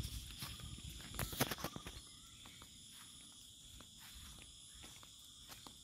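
Crickets and other insects in an open village field of the Sundarbans, near a mango tree, keep up a steady high-pitched drone throughout; rustling steps and handling noise sound close by during the first two seconds.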